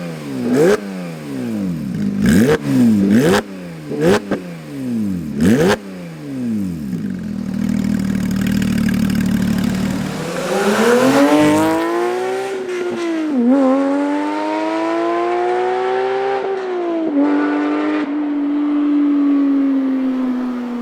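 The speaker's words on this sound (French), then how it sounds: "Et préparez vos oreilles parce que ça va chanter." A Porsche 911 Speedster with an Akrapovic exhaust revs sharply several times from idle, then accelerates hard through rising gears with crackling shifts, loud and close, with no talk.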